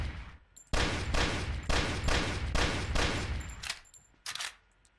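Rapid bursts of automatic gunfire in a video game, loud and close, in several rhythmic volleys that stop abruptly, followed by a short final burst.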